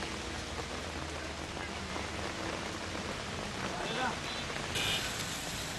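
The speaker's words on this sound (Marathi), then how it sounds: "अमरावती शहरामध्ये जोरदार पावसाची हजेरी पाहायला मिळाली आहे।" Heavy rain pours down steadily over a city in Amravati, a dense, even hiss of falling water throughout with a few brief faint tones near the end.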